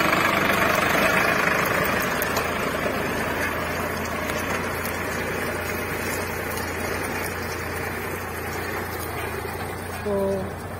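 A Solis Yanmar four-wheel-drive tractor pulls a 3MB reversible plow at depth in a field, its engine holding a steady, even mid-range drone throughout with a faint whine near the end.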